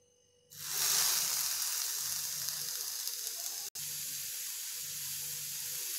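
Chicken tikka sticks laid on a hot dosa tawa burst into a loud, steady sizzle that starts abruptly, holding a bright hiss throughout with a momentary cut partway and faint low burbling underneath.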